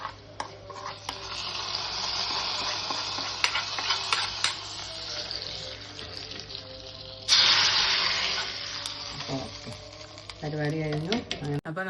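A tomato curry mixture pours into a hot clay pan, where a steady sizzle suddenly surges into a loud, hissing burst that slowly settles, followed by a few stirring clinks.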